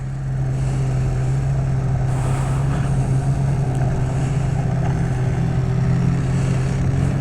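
Polaris snowmobiles, including a Matryx VR1 850 137 sled, idle and ride off along a trail, a steady droning engine hum with a low tonal buzz holding at a constant level close by.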